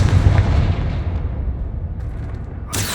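Confringo fire spell exploding in Hogwarts Legacy, a heavy booming blast that rumbles and slowly decays, followed by a short bright crackle at the end, loud and close with no voices.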